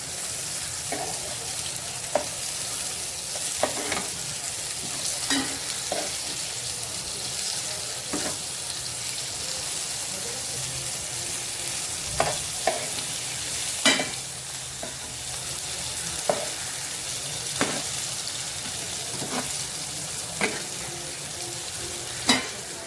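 Chicken pieces frying in oil in a pan, a continuous close sizzle broken by frequent sharp pops and spatters spread across the whole stretch, with no talking.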